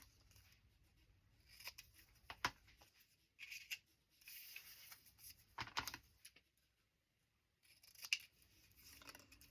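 Scissors snip through narrow strips of grid paper in quick, irregular cuts, close and fairly quiet, with short pauses between bursts of cutting in a papercraft project.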